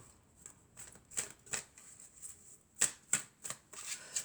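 Tarot cards are shuffled and cut in quiet, soft riffling bursts with sharp snapping flicks, irregular and close, with no talking.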